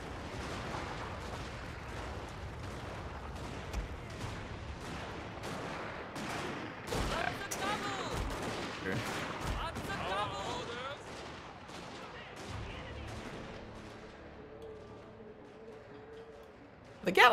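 Gatling gun towers in Total War Warhammer 2 rattling out rapid bursts of fire within a busy battle soundscape, fading toward the end, with someone talking over the gunfire.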